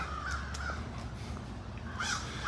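Crows caw a few times outdoors, faint and somewhat distant, over a low steady background rumble, with no talk.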